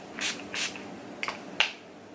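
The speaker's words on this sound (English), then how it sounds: "spritz my face with this Urban Decay All Nighter Setting" Urban Decay All Nighter setting spray misted onto a face in two quick spritzes, followed by a couple of softer, shorter bursts; close, airy hisses with quiet pauses between them.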